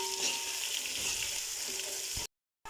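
Ginger garlic paste frying with browned onions in a pan: a steady close hiss and crackle of oil with faint stirring, cutting off abruptly near the end.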